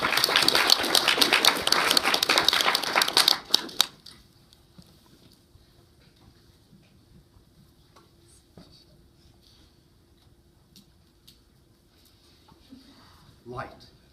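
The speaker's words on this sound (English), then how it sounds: "A round of applause" An audience claps after a magic presentation on medical ethics. A dense burst of clapping fills the first few seconds and then cuts off, leaving near silence broken only by faint scattered noises.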